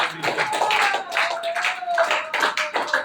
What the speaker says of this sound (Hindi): ताली बजा के परमेश्वर का धन्यवाद करें, ताली बजा के परमेश्वर की तारीफ करो।